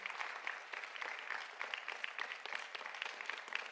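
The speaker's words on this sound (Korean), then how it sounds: "박수 부탁드립니다" A congregation in a church claps steadily, a sustained round of applause with no voices, heard from a moderate distance.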